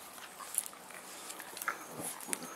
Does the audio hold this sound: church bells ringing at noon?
no